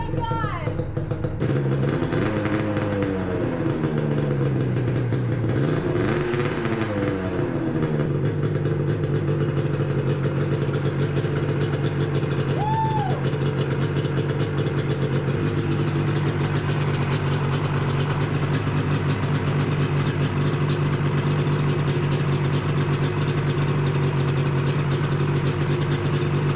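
A 2000 Yamaha 500SXR snowmobile engine catches after several labored cranking attempts, then settles into a steady, loud, rough idle with a raspy exhaust. Excited voices call out over the running motor.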